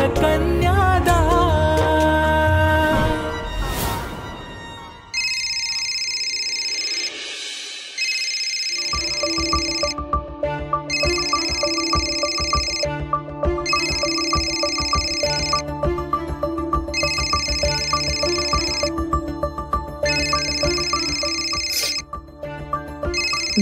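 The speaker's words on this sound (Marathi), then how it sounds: "वेदाचा फोन आहे" A phone ringtone plays loudly and alone, a repeating electronic melody cycling in regular bursts with brief gaps, following a swell of music.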